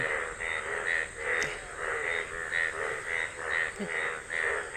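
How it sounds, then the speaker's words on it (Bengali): Many frogs croak together in a steady, pulsing chorus at moderate distance, with no voices. "প্রচুর ব্যাংক দেখছেন ডাক শুনতে পাচ্ছেন"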